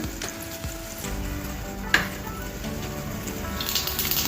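Peeled garlic cloves and mustard seeds frying in hot oil, making a steady close sizzle with a single sharp tap partway through, and no voices over it.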